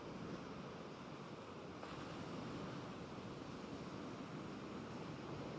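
Sea surf washes steadily into Kynance Cove in Cornwall at night, a continuous broad roar of breaking waves heard from the shore, with a little wind noise and no voices.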